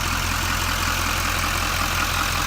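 A 6.6 liter LML Duramax diesel in a 2011 Chevy 3500HD service-body truck idles steadily, a close, loud, even low rumble with a fine rhythmic clatter and no voices.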